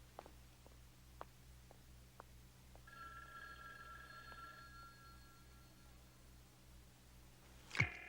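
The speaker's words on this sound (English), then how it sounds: "There doesn't seem to be any answer, Barnaby." A telephone rings on and off in an office setting with no one picking up, a steady ringing pattern under low background hum, ending with a brief loud clatter.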